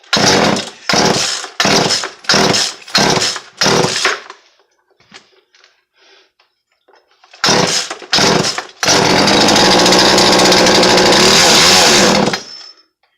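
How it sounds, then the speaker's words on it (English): A chainsaw fuelled with acetone mixed with two-stroke oil sputters through a string of short loud revving bursts, pauses almost silent, then roars again in a sustained run for several seconds before cutting off. "You can definitely run a saw off acetone and 2-stroke oil."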